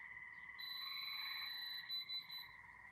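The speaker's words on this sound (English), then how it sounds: "that's the buzz to let you know it's metal" A jewelry tester gives a steady electronic buzz signalling metal, holding for about two seconds with a brief stutter near the end, faint and alone.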